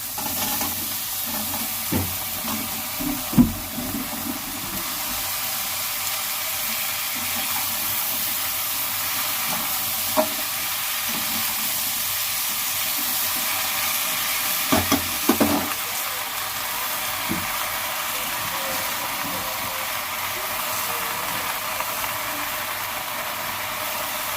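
Potato, pumpkin and Malabar spinach fry in a pan with a steady, hissing sizzle, broken by a few scraping stirs and clinks, and no one speaks.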